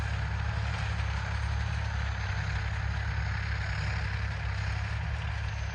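A tractor engine idles steadily at close range, a continuous low rumble with a constant hum and no pauses, heard alone without voices, before cultivation work with a KPS-4 cultivator.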